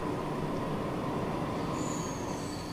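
Freight trains from the Transport Fever simulation game roll along with a steady rumble of wheels on rails and a faint squeal near the end, with no voices.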